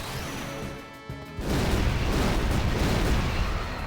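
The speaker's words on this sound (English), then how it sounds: "let me actually show off Fire Breath" Fire Breath attack in Final Fantasy X, a sudden roaring blast that breaks in after a quieter tonal passage and then holds as a loud, sustained rumbling burst.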